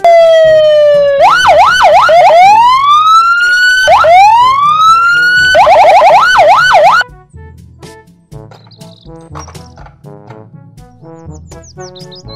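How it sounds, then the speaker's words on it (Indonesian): A loud police siren cycles through rising wails and rapid yelps for several seconds, then cuts off, leaving quieter music with chirpy tones. "mobil polisi."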